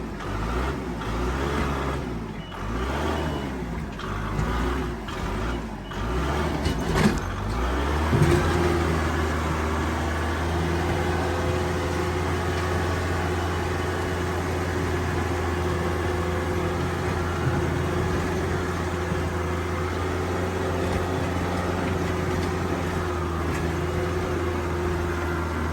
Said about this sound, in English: Everything this backhoe's got to move this thing.